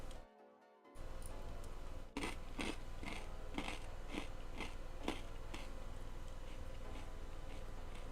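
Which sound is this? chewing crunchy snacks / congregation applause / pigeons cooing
chewing crunchy snacks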